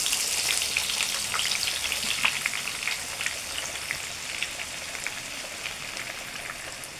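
Garlic and shallots frying in hot oil for a crispy topping, a dense, steady sizzle with crackling pops throughout, close and alone without talk.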